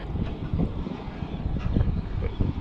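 Strong wind gusts buffet the microphone at a riverbank while whitebaiting, a continuous rough rumble rising and falling in gusts, with no voices.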